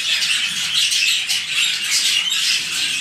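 Dense chatter of budgerigars (parakeets) in a breeding aviary, a continuous wash of high squawks and chirps from many birds at once, steady and fairly loud with no talk.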